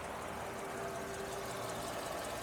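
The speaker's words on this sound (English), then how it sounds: "the engine runs absolutely beautiful" A 2002 Mercedes SL500 Roadster's engine running smoothly, a faint, even hum with a steady low drone and no rhythmic knock, heard alone without speech.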